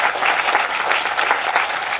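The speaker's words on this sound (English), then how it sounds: "So give a round of applause one more time." An audience at a panel event claps for a panelist, a short burst of dense, even applause from a room full of people, steady and fairly loud throughout.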